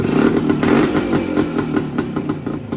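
A 55-year-old motorcycle engine idles close by with a loud, uneven, rapid chugging rhythm that keeps running steadily.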